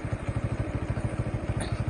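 A motorcycle engine running steadily, close and fairly loud, with a regular low pulsing throb and a slight clattering texture throughout, no talk over it.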